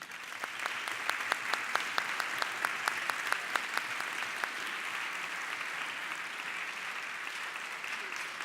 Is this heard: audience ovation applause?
yes